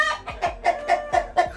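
A chicken at a house clucks close by, five or six short, rhythmic, evenly spaced clucks in quick succession with nothing else heard.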